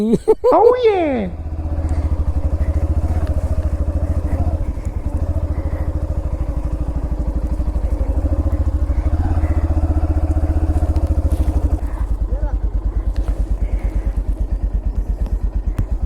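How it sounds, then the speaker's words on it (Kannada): A Bullet motorcycle rides ahead on an off-road route, its steady thumping engine drone running continuously and fairly loud throughout, with a brief clatter at the start. "ಸೊ ಮುಂದುಗಡೆ ಒಂದು ಬುಲೆಟ್ ಹೋಗ್ತಾಯಿದೆ, ಅದು ನನ್ನ ಫ್ರೆಂಡಿನ ಬೈಕು."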